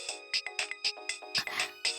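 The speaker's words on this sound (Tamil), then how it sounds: "ரிஷி தான் ஃபோன் பண்றாரு." An incoming call sets off a phone ringtone, a bright electronic melody pulsing in regular rhythmic bursts, close and clear with no talking over it.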